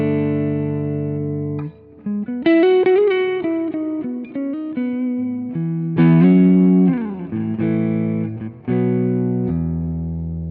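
Electric guitar played through a Quad Cortex capture of a Deluxe Reverb amp: loud, slightly overdriven single notes, bends and short phrases with small gaps between runs, close and upfront with reverb tails.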